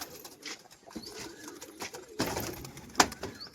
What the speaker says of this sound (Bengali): একদম তুড়িবাস পায়রা